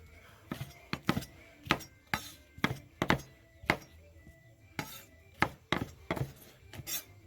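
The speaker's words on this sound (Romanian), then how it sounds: "Acum le micșorăm cât să intre în blender, folosim un alt cuțit." A knife chops bell peppers steadily on a cutting board, about a dozen close, crisp thunks in an even rhythm.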